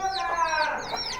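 Desi chickens cluck close by in a short burst of overlapping calls.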